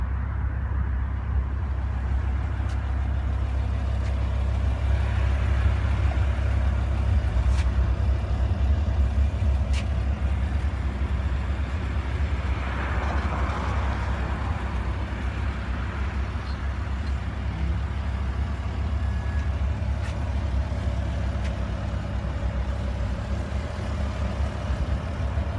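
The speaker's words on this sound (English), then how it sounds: "Engine sounds really good." A 2006 BMW M5 engine idles steadily and close by, a constant low rumble that holds evenly without revving for the whole stretch.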